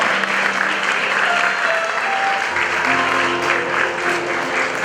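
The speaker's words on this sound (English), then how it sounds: "Please a round of applause for them" Sustained audience applause at a school graduation ceremony as award recipients come up, loud continuous clapping from a crowd with faint background tones and murmurs.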